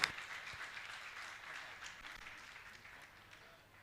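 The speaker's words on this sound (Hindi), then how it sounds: "जोरदार ताली बजाकर उनका सम्मान करें।" Applause from a gathered audience at a Jain religious discourse, beginning with a sharp onset and then fading into a soft, diffuse patter of clapping that tapers away.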